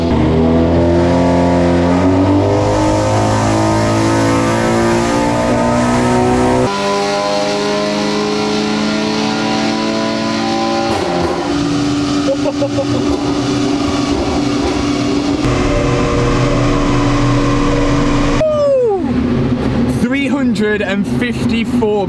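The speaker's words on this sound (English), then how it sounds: "Here we go, stock run number one in 25 degrees worth of heat." Stock Audi S3 engine revving hard on a dyno during a power run in 25-degree heat, a loud sustained climbing engine note with rising harmonics, then a sharp drop and burbles as the throttle lifts, with faint voices under it.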